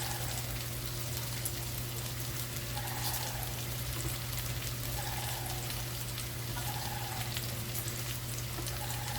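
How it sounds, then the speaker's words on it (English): Bacon frying on a Blackstone griddle, giving a steady close crackling sizzle like light rain that runs without a break, over a constant low hum, with no voices. "We don't want to cook the bacon too much, but I want to get a good little crisp."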